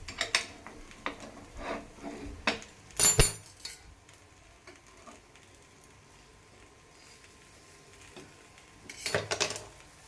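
A metal utensil clinks and scrapes against an appam pan while appam are flipped, coming in a few short, close bursts of clatter separated by quiet stretches.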